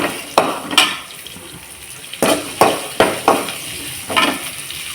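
Onions sautéing in a pan for a lentil-ball curry, with a soft steady sizzle broken by several sharp clanks and scrapes of a spoon stirring against the pan, close and fairly loud, no talking.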